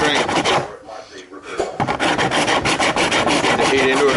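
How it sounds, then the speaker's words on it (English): A hand rasp files a repaired plastic front bumper bar from a Nissan Skyline R33 GTST in loud, rough back-and-forth strokes, with a short pause near the start before steady rapid rasping resumes. "It's just a rasp."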